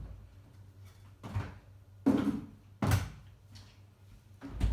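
Freezer door in a home kitchen closing during cooking, with several soft thumps and one firmer shut; the sounds are moderate and near, with a low hum in between and no talk.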